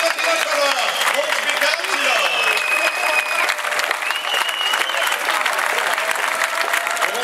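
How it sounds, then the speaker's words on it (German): Loud, sustained crowd applause at the ADAC Rallye Deutschland WRC 2015 podium ceremony as a medal winner is honored, dense clapping filling the whole stretch with tonal whistles and an announcer's voice cutting through. "Applaus für den zweiten Medaillengewinner"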